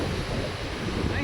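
Wind buffets the microphone in a steady, rough rumble for a brief moment at the Efteling theme park, with no talking.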